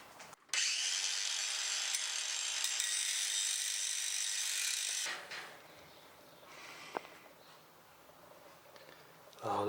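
A power tool grinds metal during a race car build, one loud, steady burst of about four and a half seconds that cuts off into quieter workshop rustling and a single sharp knock.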